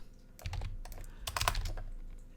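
Rapid clattering keystrokes on a computer keyboard, close by, in two quick bursts with a short pause between, no voices.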